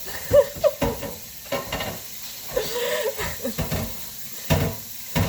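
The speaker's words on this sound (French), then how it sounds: "C'est beau, hein, un homme qui fait la vaisselle?" Dishes being washed at a sink: running water hisses, with clinks and clatters of plates and utensils, and scattered handling noises at close range.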